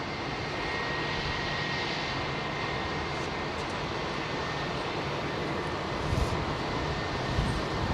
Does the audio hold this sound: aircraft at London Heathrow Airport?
yes